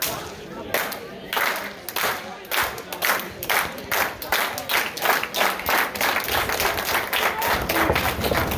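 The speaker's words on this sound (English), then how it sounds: "You want to keep clapping?" A crowd at a live comedy roast-battle show claps in a rhythmic, unified beat, strong regular slaps repeating close and loud, with a few shouts mixed in.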